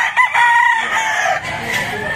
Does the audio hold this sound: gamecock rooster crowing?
yes